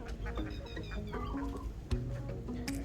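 Laying hens cluck and squawk in a poultry house on a Thai learning farm, a busy overlapping chorus of fowl calls with one sharper squawk near the middle, steady and close.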